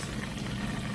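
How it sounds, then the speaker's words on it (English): Steady, close sizzling and crackling of chicken frying in hot grease, continuous and even throughout with no voices. "It's just frying though."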